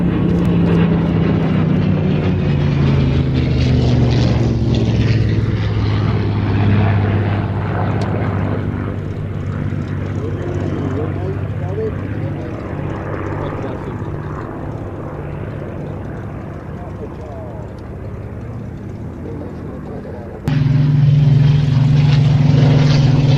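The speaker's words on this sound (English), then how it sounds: "The P-38 weaving on finals there, just extending his ground track to enable those Spitfires to get airborne" Lockheed P-38 twin-engine fighter making a weaving pass at an air show, its steady propeller drone loud and close throughout, easing slightly in the middle before swelling back up near the end.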